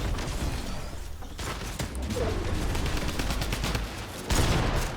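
Rapid video game gunfire in a battle royale match, a dense volley of shots and bursts running continuously through the stretch and swelling louder near the end.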